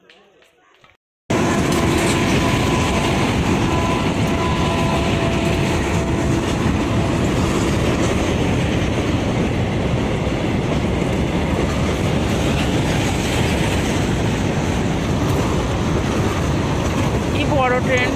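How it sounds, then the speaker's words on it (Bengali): A large train bursts in after a quiet moment and roars past nearby with a loud, continuous rumble and wheel clatter for the rest of the stretch, drowning out any other sound. "কি বড় ট্রেনটা।"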